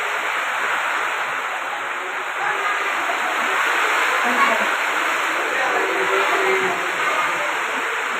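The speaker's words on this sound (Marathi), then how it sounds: "शाळेमधील ती पाण्याची गळती अशी चालू आहे" A continuous hiss of running, splashing rainwater leaking through a school roof, a steady heavy drip stream pouring down nearby, with no talking.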